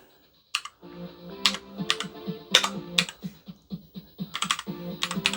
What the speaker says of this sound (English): get yourself a keyboard and plug your keyboard in and type in